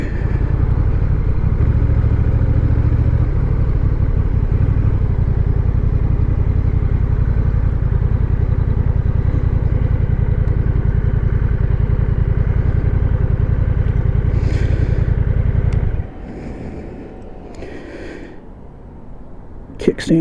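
A Honda Rebel DCT motorcycle engine runs with a steady loud low rumble for about fifteen seconds, then cuts to quieter handling sounds and brief clicks.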